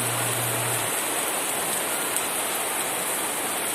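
Steady, heavy rain pours down in a dense, unbroken hiss that stays loud and even throughout.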